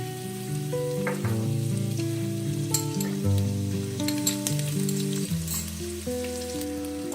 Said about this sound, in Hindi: और जिंजर गार्लिक पेस्ट डाल देना है।